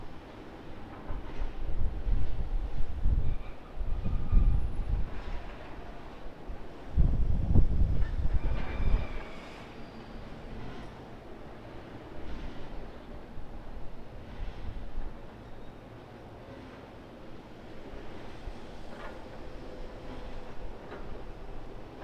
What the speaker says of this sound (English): Fiji Airways Airbus A350-900 landing on 16 right